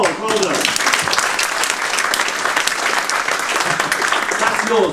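Live show audience breaks into sustained, dense applause, loud and steady throughout, with brief voices heard faintly at the start and end.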